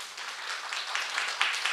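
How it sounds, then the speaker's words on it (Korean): A church congregation at a Sunday joint youth worship service applauds in a steady, fairly faint round of clapping lasting a couple of seconds. "감사의 박수 드립니다"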